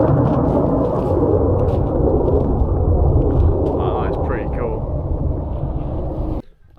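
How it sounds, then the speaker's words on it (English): Military training jet passing over the Lake District fells, a broad roaring rumble that fills the clip and then cuts off, heard through strong wind, with a voice speaking over it. "We've got the jet training going on right now in the distance."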